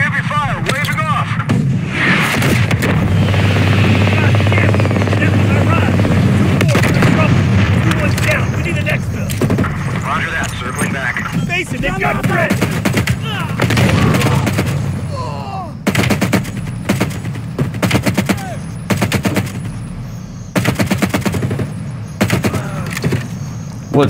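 Heavy gunfire and bursts of automatic weapons fire with booming impacts and a helicopter in Call of Duty: Black Ops Cold War, loud and sustained, then broken into sharp separate volleys, with voices talking over the combat.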